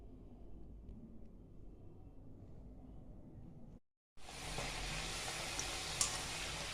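Papri flour crisps frying in hot oil, a loud steady broadband sizzle that starts abruptly after a brief silence and continues evenly to the end, with no talking.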